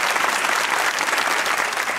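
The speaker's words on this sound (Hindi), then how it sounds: "इनके लिए तालियां होनी चाहिए" A studio audience at a Pakistani comedy talk show applauds, a dense, loud, continuous roar of many hands clapping with no pauses.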